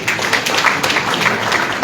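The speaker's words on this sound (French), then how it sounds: "on peut applaudir pour lui" Applause from an audience at a talk by a speaker, a steady close wash of clapping that fills the short moment without any voice.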